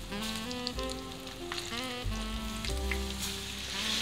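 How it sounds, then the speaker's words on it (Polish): Pieces of carp fry in hot lard, giving a steady close sizzle and crackle that holds at an even level throughout, with no talking. "No i jak już się smalec odpowiednio rozgrzał, układamy rybę i układam pozostałe kawałki."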